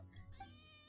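A cat gives one short, faint meow, close by but quiet, alone with no talking.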